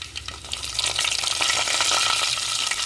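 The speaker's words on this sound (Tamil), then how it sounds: "அடுத்தது கடுகு உளுந்து போட்டுக்கிறோம்" Mustard seeds and urad dal fry in hot oil, a dense, close crackling sizzle that builds quickly and stays loud and steady, with light popping throughout.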